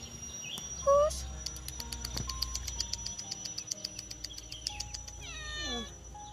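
Stray cats meow near a rubbish heap at feeding time, a couple of short distinct meows early on and a longer drawn-out meow near the end, set against steady outdoor insect chirping.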